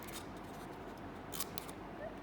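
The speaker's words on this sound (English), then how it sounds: "you're going to cut around 2-3 centimeters in, and then cut around it" Scissors snipping through a cardboard toilet paper roll for an art project, a few short crisp cuts standing out near the end over a steady background hiss, close and fairly quiet.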